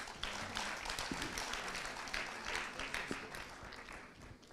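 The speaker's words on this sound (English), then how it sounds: "Can we have a round of applause, please?" An audience at a conference session on the global system applauds as a speaker is welcomed to the stage, a steady broadband patter of many hands that stays moderately loud throughout and fades slightly at the end.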